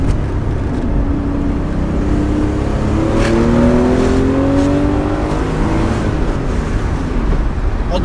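A Porsche 911 Carrera 2.7 RS Touring engine revs and accelerates, its tone rising steadily, loud and up close with a reverberant, enclosed sound.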